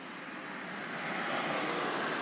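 A moped approaches, its engine noise a broad steady drone that grows gradually louder as it comes closer.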